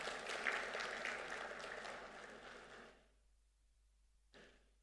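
Audience clapping at an investment forum for about three seconds, fading out, then a brief quiet pause with a small sound near the end.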